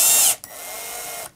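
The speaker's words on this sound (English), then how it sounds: "you know, how hard I should go with the drill" A power drill whirs in one short burst, then runs again at a steadier pitch for about a second while driving a screw into a guitar with a glass neck, close and loud.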